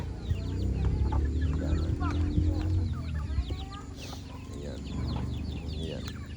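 Backyard chickens clucking and squawking while being fed, a busy overlapping chorus of birds heard close, with an occasional crow and a low rumble underneath.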